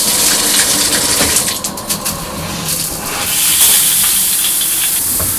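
Luxsego high-pressure filter shower head sprays water in a steady, loud hissing gush that holds constant throughout, with a brief dip in the middle before the spray surges back.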